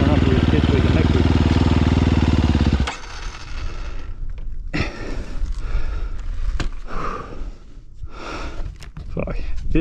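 Factory motocross bike on a rough, rock-hard stony track, its engine droning loud and steady for a few seconds before the note cuts away into bumpy clattering and surging revs with breathy noises close by.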